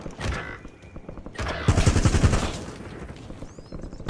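Rapid automatic gunfire bursts in the video game Warzone, dense and loud, with several overlapping volleys in a sustained stretch and no talking.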